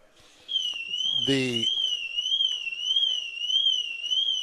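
A warbling electronic Mercedes car alarm wails continuously at high pitch, with a brief voice breaking in partway through.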